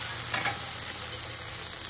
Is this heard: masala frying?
yes